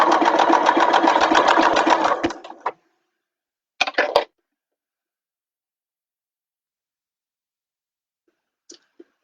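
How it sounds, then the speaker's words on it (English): A sewing machine stitching a bag made of mesh and elastic, a close, steady whirring run of about two and a half seconds, then a short burst of stitching, followed by silence and a faint click near the end. "and then we continue sewing."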